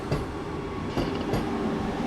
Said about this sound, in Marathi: समोरच आपल्या वंदे भारत एक्सप्रेस पासआउट होते